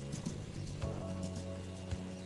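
A dressage horse being ridden in an arena gives soft, rhythmic hoof thuds at moderate distance, faint and regular over a low background hum.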